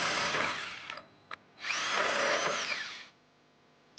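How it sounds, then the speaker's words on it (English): Power drill with a 1 1/8 inch hole saw cutting an access hole in the frame of a 2022 Jeep Renegade, a loud grinding whine in two bursts close up with a brief knock between them. "we're going to be using an 1 1/8" hole saw to create 2 access holes, one on each of the side of the vehicles"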